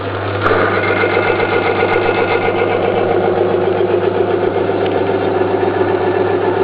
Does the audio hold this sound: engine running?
yes